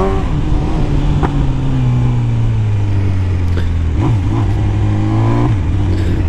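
A BMW S1000 motorcycle, ridden again after a crash, revs loudly and close, its engine tone rising and falling through several throttle blips, with no talking over it.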